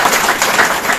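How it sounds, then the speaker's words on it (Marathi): A crowd claps loudly and steadily at a Diwali event for women sanitation workers, a short burst of close, dense applause with no voices over it. "आपल्या सगळ्यांनी एकदा जोरात टाळ्या वाजवून"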